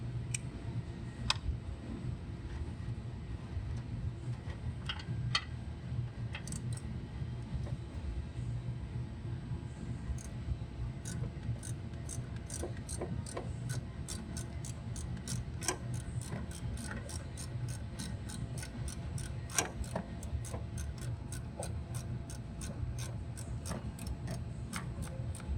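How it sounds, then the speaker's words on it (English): A ratchet with an extension works bolts loose on the fender of a 2015–2019 Cadillac Escalade, sounding as scattered clicks at first and then a long steady run of rapid, even ticks, close up over low background hum. "I'm going to go ahead and take off these bolts right here also. I'm going to use an extension to get in there a little bit closer."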